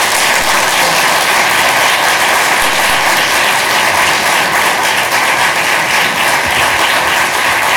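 A large audience applauds at a Wichita city council meeting, a dense, loud, unbroken wash of clapping that fills the room with no break.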